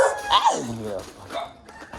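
Dogs bark in sharp bursts near a house under construction, loud and close at first, with more barking trailing off in the background; people talk over them.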